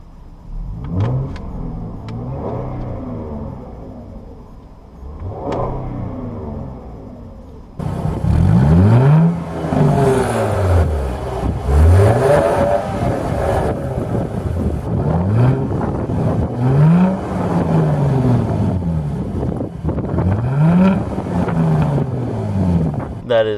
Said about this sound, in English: Let's give this car a rev.